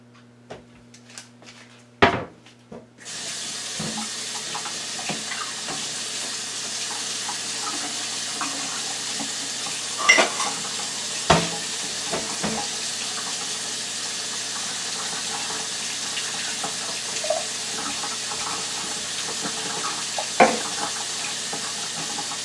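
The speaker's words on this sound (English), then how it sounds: "Let me pour this off, because I don't want the juice." Juice is poured off jarred cherries in a kitchen while making a fruit platter, a steady hissing pour that runs on for about twenty seconds with a few faint clinks, with no talking.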